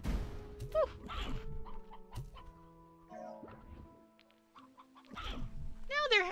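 Chickens cluck in Slime Rancher 2, with bursts of short clucks and squawks scattered among game tones and chimes, fairly close and clear.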